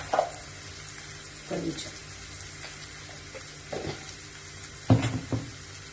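Onions with a pinch of salt frying in a pan for capsicum curry, giving a steady soft sizzle broken by a few louder stirring scrapes, with a brief spoken word partway through.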